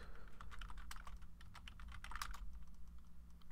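Someone types a password on a computer keyboard, a quick run of close, crisp key clicks in an irregular rhythm over faint background hum, with no voices.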